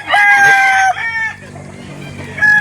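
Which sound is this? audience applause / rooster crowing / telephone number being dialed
rooster crowing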